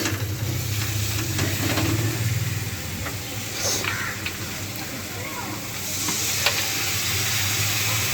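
Spice masala sizzles in oil with a little water added, a steady close frying hiss with light stirring scrapes running throughout, while a person talks over it.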